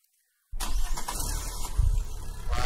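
A car engine runs steadily close by, a continuous rumbling drone with a slight squeal, starting abruptly after a short silence.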